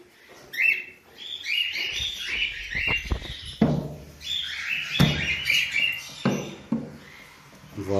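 Cockatiel chicks in a nest box chirp in rapid, high, repeated calls, close and loud, with some rustling and handling noises underneath.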